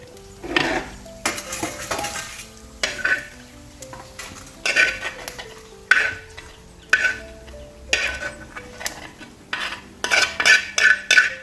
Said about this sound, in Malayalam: നമുക്കിത് വേറൊരു പാത്രത്തിലോട്ട് മാറ്റാം.